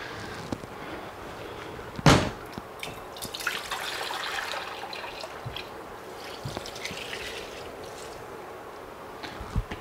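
Water poured or sprayed into a snake enclosure to raise the humidity, a soft running, splashing wash with a sharp clatter near the start and scattered small drips and knocks, close by with no talking.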